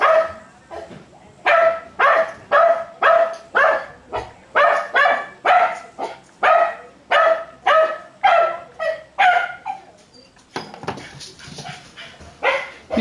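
A dog barks loudly and persistently, around fifteen sharp barks in a steady, even rhythm for about ten seconds, then a few more after a brief noisy gap, with no talking over it.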